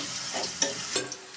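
Onions frying in oil until browned for chicken haleem, a soft continuous sizzle with a few brief stirring scrapes, fairly quiet and close.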